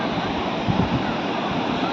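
Ocean surf at Rushikonda Beach, a continuous broad wash of breaking waves with some wind noise on the microphone, close and steady throughout.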